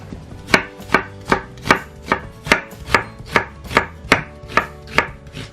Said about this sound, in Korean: 양파는 가늘게 채 썰어서 듬뿍 넣어주세요.